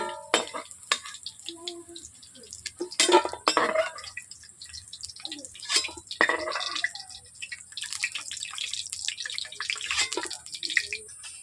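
Fried soybean chunks lifted out of a wok of hot oil, with a faint sizzle, dripping oil and irregular clinks and scrapes of a metal ladle against the pan.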